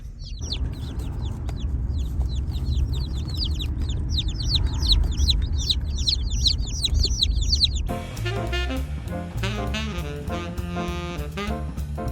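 Dense, high-pitched cheeping of many chicks close by for several seconds, then music takes over.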